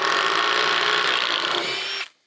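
Power drill driving a screw into a wooden box frame for stairs, one continuous close whir of about two seconds that stops abruptly, no speech.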